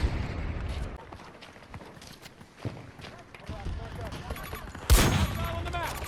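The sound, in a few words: gunfire in the video game Battlefield 2042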